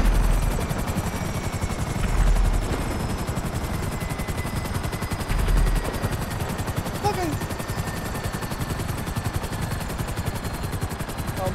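Helicopter rotor thumps steadily throughout a video game battle, mixed with rapid bursts of gunfire, with a few louder impacts standing out in a dense, busy soundscape.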